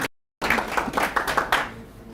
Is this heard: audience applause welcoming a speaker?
yes